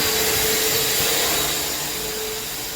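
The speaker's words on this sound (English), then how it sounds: "we're going to continue to grind this area here" A concrete grinder working a patched concrete patio floor for a decorative coating, a loud, steady whirring roar with a droning tone, easing slightly toward the end.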